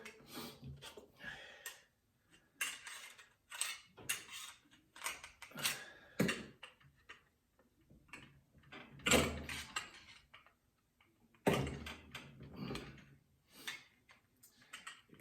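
A Vortek steel spring kit is worked into the cylinder of a Diana 34 air rifle, giving close, quiet metallic clicks, scrapes and creaks in irregular bursts with short pauses.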